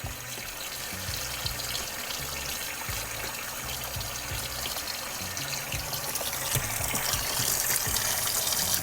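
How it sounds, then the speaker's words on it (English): Water runs steadily from a tap into a sink, a continuous close splashing stream used while washing a turkey fan with soap. "Add a little water."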